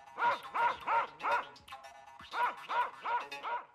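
Two scrawny dogs bark in a steady run of sharp, evenly spaced woofs, a burst of four, a short pause, then four more, loud and close, used as a sound effect in a spoken children's fairy tale.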